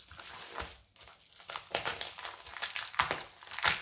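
Close-up crinkling and rustling of a bubble-wrap envelope around a diamond painting canvas, irregular crackles and crunches as it is handled.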